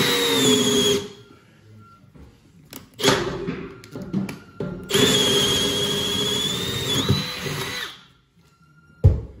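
A power drill whines in bursts while drilling into a floor, spinning up and grinding for a few seconds, pausing, then running longer with a rising squeal before stopping.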